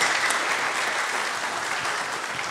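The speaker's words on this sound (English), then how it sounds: "that deserves a clap" Lecture hall audience at a talk honouring Julius Nyerere breaks into steady, dense applause, many hands clapping evenly throughout at close range.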